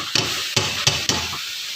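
Cauliflower gets stirred in a frying pan for a village-style aloo gobi, four sharp scraping strokes in quick rhythm over a soft steady sizzle, close and fairly loud.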